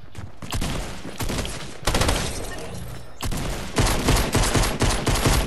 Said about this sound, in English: Hate that double shotgun.